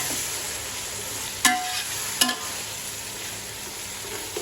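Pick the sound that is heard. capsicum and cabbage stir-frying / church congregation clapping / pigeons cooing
capsicum and cabbage stir-frying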